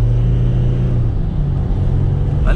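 A Chevrolet Trailblazer 2.8 turbo diesel Premier accelerating on a downhill and uphill stretch, giving off a steady, loud, low engine rumble that holds throughout with a slight lift at the end.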